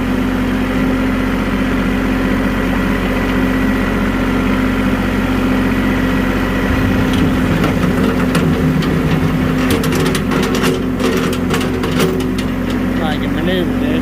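A Bobcat 610 skid steer engine idles steadily in a backyard, a constant low rumble throughout with some rattling, clanking activity building in the second half.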